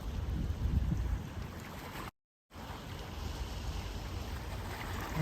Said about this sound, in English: And these water sounds makes you calm as well.